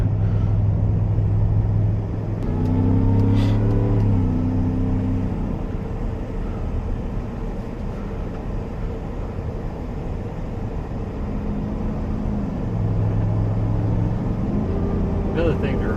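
A lifted 775 HP 2023 Shelby F-150 is driven fast through Tijuana. A steady engine drone and road rumble fill the clip, with the engine tone rising twice as it revs, and faint voices may sit underneath.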